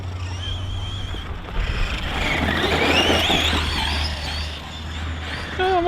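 Tekno MT410 RC monster truck on a Hobbywing Max8 3S setup, its electric motor whining up and down in pitch as it drives and accelerates, with tyre and gravel noise, fairly close.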